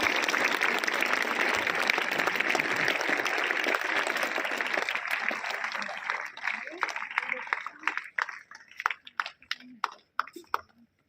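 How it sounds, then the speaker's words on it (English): Audience at a morning school assembly clapping loudly, the applause thinning out into scattered individual claps that fade away toward the end. "Give a big applause for his welcome."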